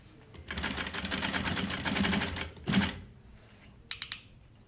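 A sewing machine stitches across the metal teeth of a jeans zipper. It runs in a steady loud whirring burst, pauses, gives one short run, then falls quiet before a few sharp clicks at the end.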